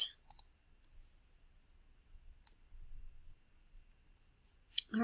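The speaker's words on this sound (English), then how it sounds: "And I'm going to click submit." Computer mouse clicking a submit button, a few sharp, close clicks spaced across near silence, with a faint low rustle between them.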